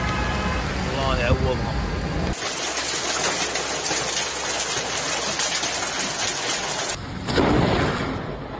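Hail pounds down during a storm in Abha, Saudi Arabia, a dense, steady roar of icy stones striking surfaces that fills the whole stretch, with a voice talking over it early on.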